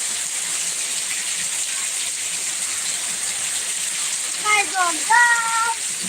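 Heavy monsoon rain pours down in a constant, dense hiss close by, and a voice speaks briefly over it near the end.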